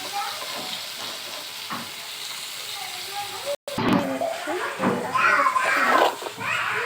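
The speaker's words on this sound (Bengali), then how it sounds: "পেঁয়াজ, গরম মশলা, শুকনো লঙ্কা আর তেজপাতা দিয়ে আমি ভাজছি" Chopped garlic fries in a pan with onion, whole garam masala, dry red chilli and bay leaf for a chicken dish, giving a steady sizzle with stirring; a person talks over the second half, with a brief dropout midway.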